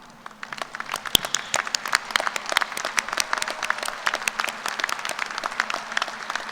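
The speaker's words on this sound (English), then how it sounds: "show our appreciation for mentoring these graduates with a round of applause" Sustained applause from a sizable graduate school commencement audience, dense clapping that holds steady the whole time with no voices.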